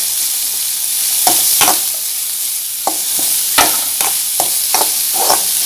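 Chopped chilli and onion sautéing in a pan for a veg stuffed dosa filling: a steady close sizzle with repeated sharp scrapes and stirring clicks from a spoon, spaced irregularly through the whole stretch, with no talking.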